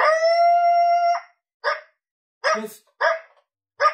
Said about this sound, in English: This one's more of a standard coyote that you'd hear.